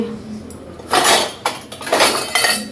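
A metal plate is picked up and set down for kneading dough at home, with a few sharp clanks and scrapes close by after a brief quiet start.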